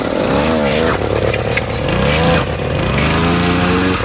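A Chinese F-80 two-stroke 80 cc petrol engine fitted to a bicycle runs loud and close, its buzzing drone rising and falling in pitch as the throttle is revved, with no break in the noise.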